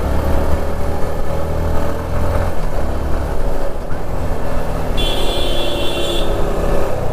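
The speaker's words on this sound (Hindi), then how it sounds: "यहाँ पे कार्स कैसे आ रहे हैं देखो" Cars and other vehicles roll along a mountain road to Darjeeling, their engines and tyres making a constant, close rumble of traffic that never lets up.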